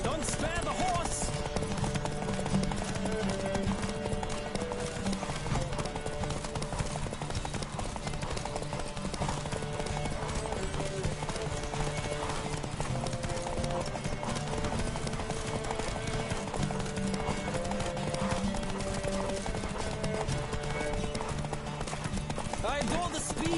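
Hoofbeats of a horse galloping in a video game race, a steady fast clip-clop running throughout under a bed of game music, with occasional whinnies and voices over it.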